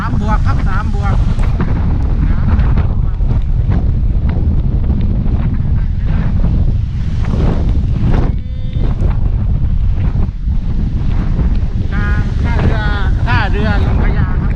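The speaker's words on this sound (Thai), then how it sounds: "ลมแรง" Storm-driven wind roars steadily into the microphone at Don Sak pier during Tropical Storm Pabuk, a loud unbroken rumble with bursts of gusting, while someone talks over it at times.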